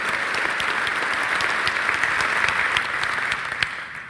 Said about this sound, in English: And thank you for that warm round of applause.